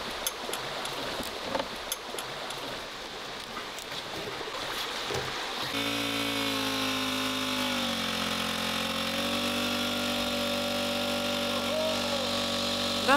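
A small motor-driven water pump starts up on a homemade mini gold dredge, a steady droning hum with water rushing, following quieter outdoor clatter.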